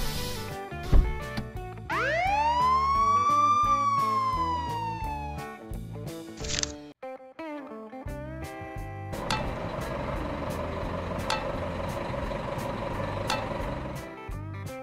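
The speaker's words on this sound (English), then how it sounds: "Police car." A police car siren rises into one loud, swooping wail, then gives way to a dense, busy mix of other vehicle and street noise.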